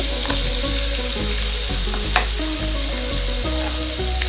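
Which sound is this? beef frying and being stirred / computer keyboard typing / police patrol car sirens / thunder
beef frying and being stirred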